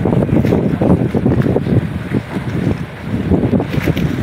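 Heavy wind buffets the microphone and big waves slosh around a boat sailing through rain in bad weather, a loud continuous roar with surging bursts and no voices.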